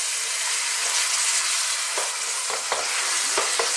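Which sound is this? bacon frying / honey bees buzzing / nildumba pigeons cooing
bacon frying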